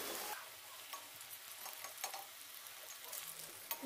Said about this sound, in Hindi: अब हम इसमें अपनी पालक वड़ी पकाते हैं। इसे हमें उलट पलट के पकाना है